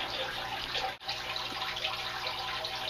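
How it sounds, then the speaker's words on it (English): A planted fish tank aquarium fills with water in a steady, quiet rushing pour that runs on evenly, with one brief break, and no voices. "there's water all the way filled up into the tank"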